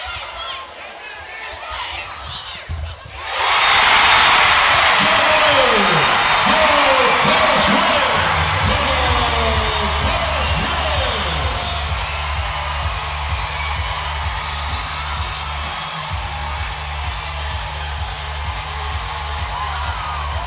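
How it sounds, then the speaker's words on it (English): A volleyball arena crowd at the Comerica Center rises with a sudden loud roar of cheering and whoops at match point, sustained for many seconds while a commentator talks over the noise. "Crowd on their feet, set out here at the Comerica Center."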